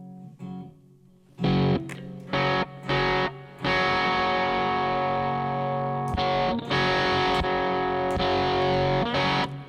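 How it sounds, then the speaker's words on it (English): Electric guitar played through a Friedman Twin Sister amp with switches set for high gain, distorted chords struck in short stabs, then held and sustained, loud and saturated with no talking. "the twin system can reach high gain tones, especially playing with the switches"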